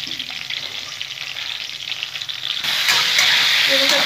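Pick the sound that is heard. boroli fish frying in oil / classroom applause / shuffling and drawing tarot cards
boroli fish frying in oil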